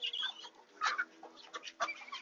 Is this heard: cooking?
no